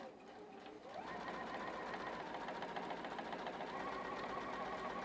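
Close, steady whir of a sewing machine running a quarter-inch seam through a quilt block, speeding up after a brief slower start and continuing evenly.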